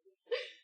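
A person sneezes once, a short sharp burst after a faint intake of breath, close and fairly quiet, with a brief breathy tail.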